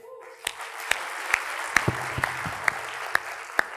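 An audience at a student public-speaking talk gives a small round of applause: a handful of distinct, evenly spaced claps ring out in a steady rhythm over a quiet room.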